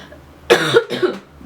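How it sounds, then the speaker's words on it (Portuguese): A pair of close, harsh coughs in quick succession, the second slightly softer, against a quiet background. "eu tô com uma tosse faz um mês já que não passa"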